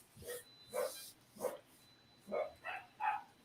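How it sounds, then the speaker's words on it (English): Dogs bark in a series of six sharp barks at a steady, uneven pace, heard somewhat distant and moderately quiet, with no talking over them. "The dogs are adding to it too."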